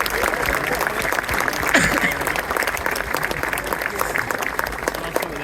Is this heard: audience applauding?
yes